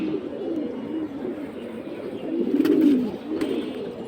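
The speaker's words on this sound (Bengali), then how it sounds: "অনেক সুন্দর সুন্দর কবুতর আছে" Pigeons kept for sale coo in a low, continuous murmur, with a slightly louder swell in the middle and a few faint clicks and rustles nearby.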